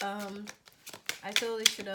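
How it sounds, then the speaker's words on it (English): A deck of tarot cards being shuffled during a soulmates and singles reading, with repeated quick riffling and clicking bursts running under close, continuous talk. "One more shuffle and repeat."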